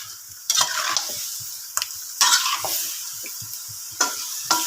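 Pork and chicken humba sautés in a pan, sizzling steadily while a utensil stirs and scrapes in intermittent bursts, close by and moderately loud, with no talk.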